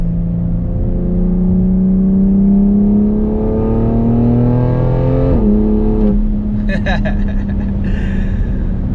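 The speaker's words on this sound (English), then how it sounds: "The gurgles back there from the exhaust, just this is a dream." A 2020 BMW X3 M compact SUV engine revs up steadily in a rising drone, then shifts and settles, with crackling, burbling exhaust pops toward the end; heard from inside, close and loud.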